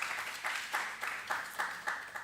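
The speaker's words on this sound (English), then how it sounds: "Come on, applaud the Institute of Jamaica." Audience at a youth forum debate final applauding in soft, uneven bursts of clapping, fairly faint and distant, with no voices over it.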